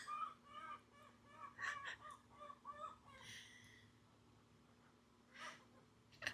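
Chickens squawking and clucking outdoors, a run of repeated rhythmic calls followed by a few scattered squawks, faint and somewhat distant with no talk.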